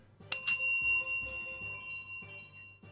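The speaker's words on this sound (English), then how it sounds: "Here's a bell for you." A bell rung as thanks for a donation during a Yu-Gi-Oh! Forbidden Memories tournament stream: two quick bright dings ringing out into a long shimmering decay, followed by faint low murmuring.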